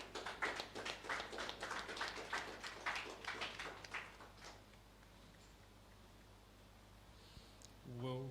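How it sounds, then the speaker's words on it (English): A small audience claps to greet an arriving guest at a tech event in Benin, a brief burst of sharp, uneven claps that fades after about four seconds into quiet room tone. "let's give her a round of applause, please"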